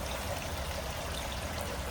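Water runs steadily from a tap during handwashing in Japan, a soft continuous wash of trickling flow with no break, fairly quiet and close.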